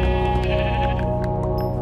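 A sheep in the video game Minecraft gives a loud, close, wavering bleat that lasts the whole moment, carried over continuous game background sound.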